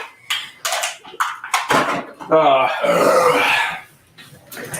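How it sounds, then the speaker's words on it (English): A long, loud, rumbling burp stretches for over a second after some quick chatter, with voices continuing briefly afterward. "this is a good burp"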